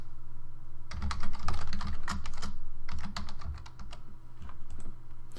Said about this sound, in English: as I type in the code